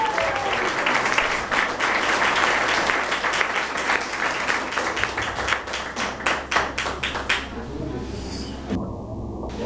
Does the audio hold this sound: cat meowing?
no